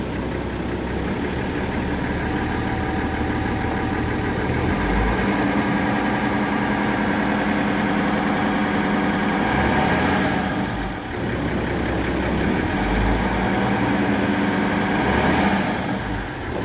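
Diesel engine of a 40-year-old Ciferal Paulista bus running close by, a heavy steady rumble with a couple of brief swells as the throttle is raised, no talk.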